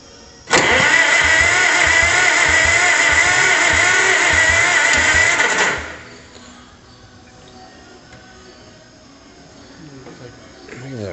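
A car engine cranks and fires into a loud, steady roar for about five seconds, then drops away to a low rough idle. It starts after a quiet moment and no one speaks over it.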